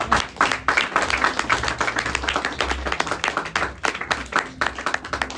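A church congregation applauding, with dense, close, continuous clapping from many hands that carries on steadily throughout.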